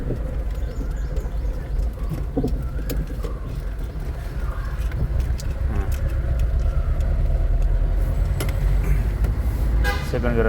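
A car engine hums steadily as an eighth-grade student drives with a driving school in Malleshwaram. The low, loud rumble runs throughout, with horn toots and street traffic mixed in.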